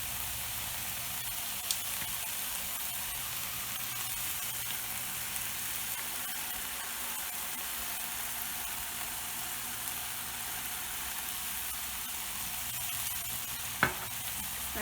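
Food stir-frying in a pan with light soy sauce, a steady, broad sizzle and hiss with soft stirring scrapes throughout and one sharp clack near the end; no voices.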